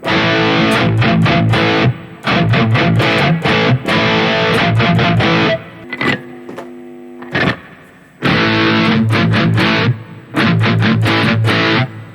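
Distorted electric guitar chords played in bursts through a JOYO GemBoxK8 reverb set to a dark sound, with a heavy reverb tail ringing out in the gaps between phrases.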